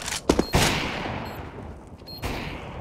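Gunfire from the video game Counter-Strike: Global Offensive, a few sharp bursts of shots early on and another later, set against steady in-game ambience with no talking.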